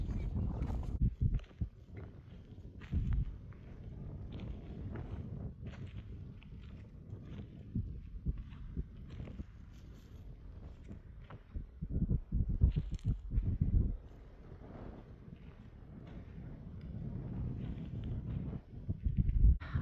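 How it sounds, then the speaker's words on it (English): Strong wind buffets a dirt road after a dust storm, with a low rumbling roar and irregular gusty thumps that swell and fade over the whole stretch, loudest in a few sharp surges, with no voices. "It's really windy out here"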